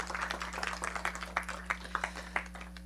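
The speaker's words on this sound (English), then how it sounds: "Quick round of applause for that." Audience at a city council proclamation ceremony gives scattered applause, a thin patter of claps over a steady low electrical hum, fairly distant and brief.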